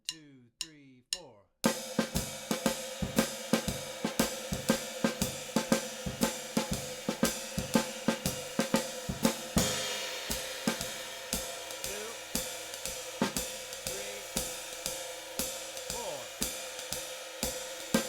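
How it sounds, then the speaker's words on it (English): A drum kit plays a bebop lick at a slow tempo with the bass drum filling in the gaps, producing steady rapid hits and cymbal wash for about sixteen seconds after a few brief count-in clicks. "Another idea would be fill in the missing notes on the bass drum."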